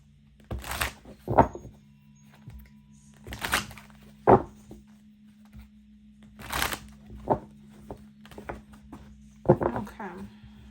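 Tarot cards are shuffled by hand in short bursts, several quick riffles and soft thumps spaced a second or two apart, heard close up with a low steady hum beneath and no voice.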